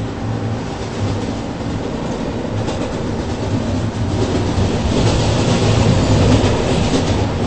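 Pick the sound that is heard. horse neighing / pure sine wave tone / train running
train running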